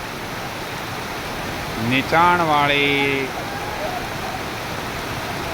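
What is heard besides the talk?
heavy downpour of rain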